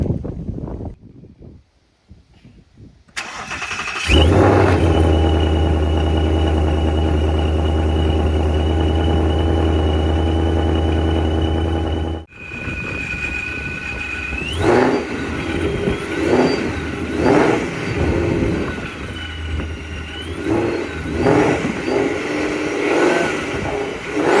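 Procharged 2019 Ford Mustang GT with a stage 2 intercooler and straight-cut supercharger gears, starting up into a loud steady idle, then a series of sharp revs with rising supercharger whine, close and unaccompanied by talk.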